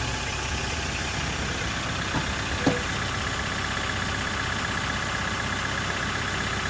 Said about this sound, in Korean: 시동 좀 걸어놔야겠지?